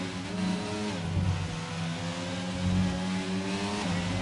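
F1 race car engine in a racing video game, at full throttle in eighth gear with DRS open: a loud, steady high-pitched whine that holds continuously, close and alone.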